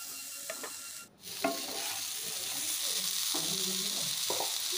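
Potato and eggplant pieces fry in a pan with salt and turmeric, giving a steady, close sizzle, with a few clinks and scrapes of stirring near the start.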